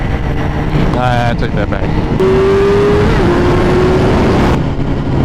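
A BMW S1000RR superbike engine revs hard with rising and falling pitch and a sustained high whine, loud and close, while a rider speaks briefly over it.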